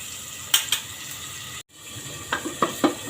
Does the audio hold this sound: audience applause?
no